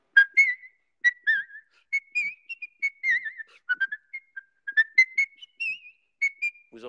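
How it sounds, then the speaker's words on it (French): A man whistles a tune from the film Snow White and the Seven Dwarfs, clear close melodic phrases with short gaps between notes, alone and without talk. "le répertoire va un peu plus vers la musique sifflée de cinéma"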